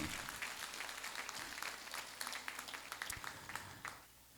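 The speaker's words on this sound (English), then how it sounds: "A big round of applause, please, for yourselves." Audience applause at a university graduation ceremony, a sustained wash of many hands clapping from a large crowd, fairly faint and distant, tapering off near the end.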